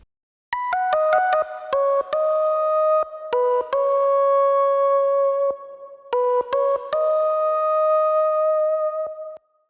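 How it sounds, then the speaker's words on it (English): A bright, clean Analog Lab 5 lead synth preset called Migrating Lead plays a melodic phrase of pure, tonal notes with sharp attacks, some short and some held, separated by brief pauses, with no voices. "A very 2000s computerized synth kind of a sound."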